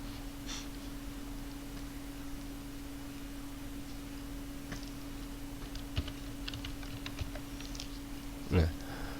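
Typing on a computer keyboard while working in Microsoft Word, heard as faint, sparse key taps over a steady hum, ending in one louder keystroke near the close.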